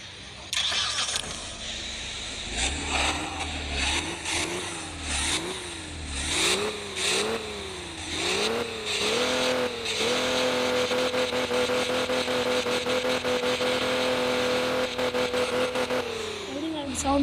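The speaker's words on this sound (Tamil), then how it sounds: "இந்த காரோட சவுண்டை பார்க்கலாமா வாங்க." A car engine in the Car Simulator 2 video game starts and then revs in repeated rising and falling surges before settling into a sustained high hum, loud and close throughout.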